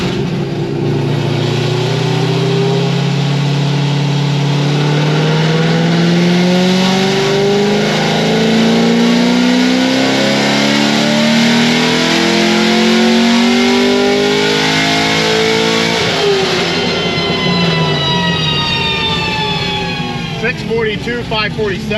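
A C6 Corvette Z06 engine fitted with a Stage 4 package roars on a dyno pull, climbing in pitch for about fifteen seconds before lifting off and dropping back through fading, burbling revs.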